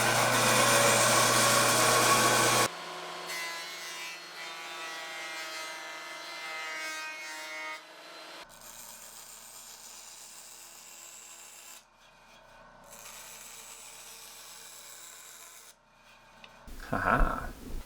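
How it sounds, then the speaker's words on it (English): A bandsaw rips wooden guitar back braces down to one centimetre wide, a steady close-up rasping cut that runs on and off in several passes, ending with a brief louder clatter. "So back to the bandsaw."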